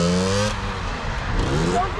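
A 50cc moped engine revs up for a wheelie, a rising buzzy whine that drops and climbs again, close and loud, with people talking over it.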